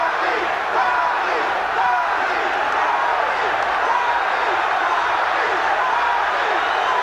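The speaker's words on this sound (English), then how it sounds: "the crowd has been chanting for Muhammad Ali" Boxing arena crowd chanting for Muhammad Ali, a loud dense roar of many voices sustained without pause, with rhythmic chant swells woven through the din.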